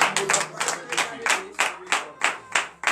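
At a morning prayer service in Benin, the congregation claps loudly in a strong rhythmic unison beat, roughly three sharp claps per second, close and punchy, with a low voice or hum beneath.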